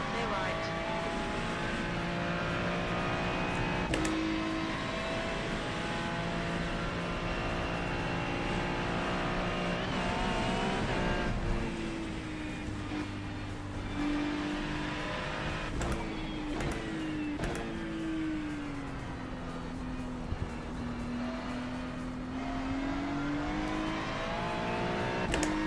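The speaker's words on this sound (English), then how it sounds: "First ever lap of iRacing in the rain, and we're on the Nordschleife in a GT3 car" A GT3 race car engine in iRacing on the wet Nordschleife drones and revs steadily over roughly twenty-five seconds through gear shifts, with a voice talking over the engine at times.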